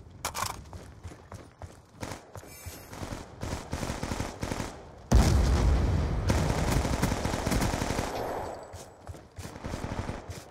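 Rapid gunfire in a sharpshooter video game, bursts of close, sharp shots with short pauses, then a loud sustained volley before it trails off and a few more rounds return.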